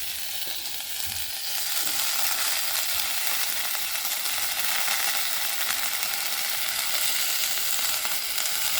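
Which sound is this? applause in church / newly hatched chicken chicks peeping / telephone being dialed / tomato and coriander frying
tomato and coriander frying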